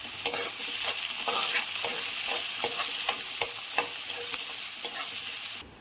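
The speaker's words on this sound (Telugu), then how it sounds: "పచ్చిమిర్చి ముక్కలు ఇవన్నీ బాగా వేయించుకుంటాం" Green chilli pieces frying in a hot pan, a bright continuous sizzle with regular clacking stirs of a spoon against the pan, close up with no voices, ending abruptly.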